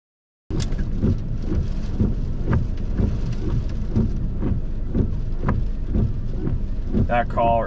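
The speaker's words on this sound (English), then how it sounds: "This storm is getting ready to hit full on." Heavy thunderstorm near Steger, Illinois, with dense rain hammering continuously and repeated sharp thunder cracks and rumbles breaking through, loud and close, ending with a warbling tone.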